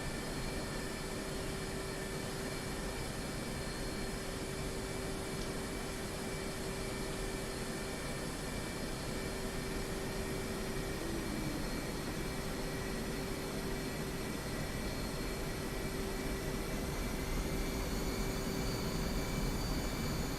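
Jet aircraft taxiing toward a runway in a flight simulator, a steady engine whine and broad roar holding constant at moderate level throughout, with no voices.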